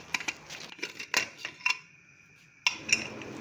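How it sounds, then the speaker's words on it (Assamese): Sharp metallic clinks and clatters as a pressure cooker lid is removed from the pot, several taps in quick bursts with a pause, close by and fairly quiet. "এতিয়া আমি কুকাৰৰ ঢাকনিখন গুচাই চালোঁ।"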